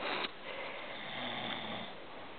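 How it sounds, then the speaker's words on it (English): A pet snores in a house, slow and soft, one long rasping breath dragging on after a sharp start, with no talking. "He's snoring again."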